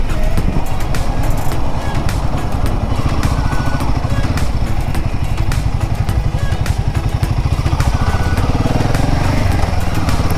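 A Himalayan 450 motorcycle engine thrums loudly and continuously close up as the bike rolls through a toll gate, with a steady rhythmic exhaust note.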